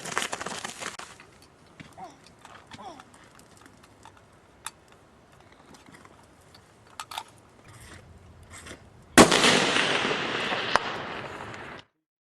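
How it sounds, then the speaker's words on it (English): A rifle fires a single shot at a 515-yard target: one sharp, loud crack with a lingering outdoor echo tail, preceded by a long quiet stretch with faint clicks and handling noise. "Alright, I'll put another shot down."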